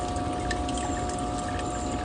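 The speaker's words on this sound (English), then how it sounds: "You can see strong stream into the pump pit" Water streaming out of a new drainage line and pouring into a pump pit, a steady close splashing rush with a constant tonal hum underneath.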